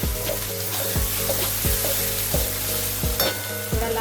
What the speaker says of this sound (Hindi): ये डाल के अच्छे से लाल करके मसाला को भूनना है हमें